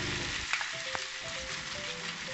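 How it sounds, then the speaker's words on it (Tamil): A noodle omelette mixture made with Maggi noodles and carrot fries in oil in a pan, giving a steady close sizzle with faint scraping from stirring. No voices. "இப்போது ஒரு பேனில் 2 டேபிள் ஸ்பூன் ஆயில் ஊற்றிட்டு நம்ம எடுத்து வச்சுருக்க நூடுல்ஸ் மிக்ஸிங்கை அதில் கொஞ்சம்"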